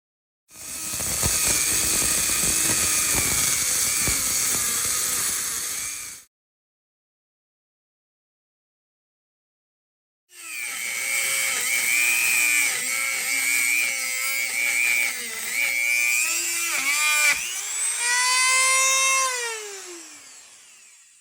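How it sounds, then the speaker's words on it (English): A power tool cuts through a steel rifle bolt latch knob in two loud bursts, a steady high whine for about six seconds, a pause of silence, then a longer run whose pitch wavers and sweeps upward near the end. "here we got the majority of the bolt latch knob cut off"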